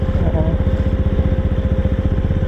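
A heated motorcycle engine idles with a steady, rapid low-pitched chug while its cooling fan runs, recorded close up on a mountain ride near Sela Pass toward Tawang; the putter continues evenly throughout.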